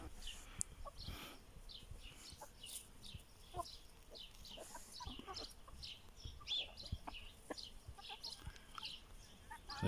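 Young chickens grown into hens, a flock clucking and peeping close by in a busy, irregular chorus of short calls while they eat rice, fairly quiet overall.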